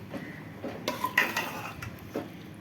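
Spoon scraping and clinking against a metal pot while chicken curry is stirred, a steady series of light knocks and scrapes at close range.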